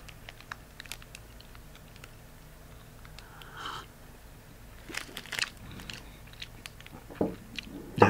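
Someone bites and chews a chocolate-covered honey bun close up, soft wet chewing with scattered crisp bites and smacks, a few louder bursts near the end, no talk.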